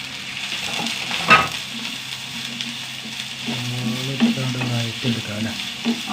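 Onions sauté in a hot pan after mustard seeds have popped, loud close sizzling mixed with repeated scraping and stirring strokes of a spoon against the pan.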